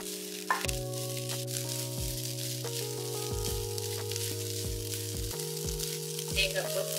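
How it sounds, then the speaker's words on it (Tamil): Grated coconut fries in ghee for a sweet jaggery dumpling filling, a soft continuous sizzle running under sustained steady tones, with a few faint clicks and stirring touches and no talking. "இந்த நெய்யில தேங்காயை நல்லா வறுத்துக்கலாங்க"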